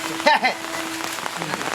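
Rain falls steadily as a soft, even patter throughout, with a brief voice and a faint tone over it near the start.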